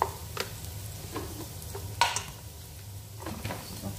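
Onion fries in a pan with a soft, steady sizzle, broken by occasional scrapes and clinks of a utensil stirring against the pan.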